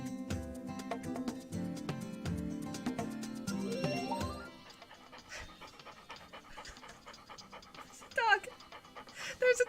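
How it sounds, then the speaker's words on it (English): A dog pants in a video game: rhythmic, breathy puffs come through after a stretch of plucked game music, growing louder and closer toward the end. "There's a dog."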